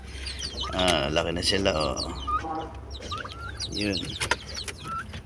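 Chickens and young chicks on a farm cluck and peep close by in short bursts, with a person talking over the birds.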